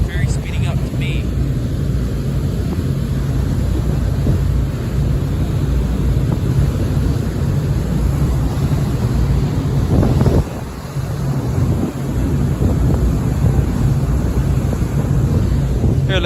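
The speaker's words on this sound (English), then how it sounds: "Oh my gosh, it's even windier on this side." Strong wind buffeting the microphone on the open deck of a San Francisco Bay ferry, a loud continuous roar with engine rumble underneath, briefly dipping then surging back, while a person talks over it.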